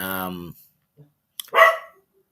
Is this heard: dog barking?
yes